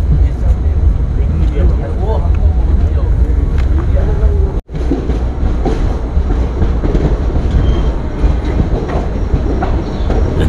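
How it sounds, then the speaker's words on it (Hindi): Nagaland Express, a passenger train running from Guwahati to Dibrugarh in Assam, rolls along the rails with a steady, loud rumble that continues throughout. A brief dropout breaks it near the middle, and a voice can be heard over it. "दोस्तों 30 मिनट की देरी से डिपार्ट हो रही है दोस्तों ट्रेन जागी रोड से"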